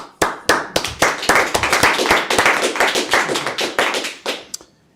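Scattered hand claps from a few people at home greet newly elected directors and officers, sharp irregular slaps close to the mic that build into a steady patter for several seconds before tapering off.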